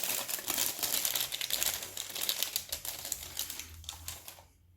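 The plastic wrapping around a Spigen Liquid Crystal Glitter case for a Galaxy Note 10+ crinkles and rustles up close in quick, busy handling, fading out to quiet at the very end.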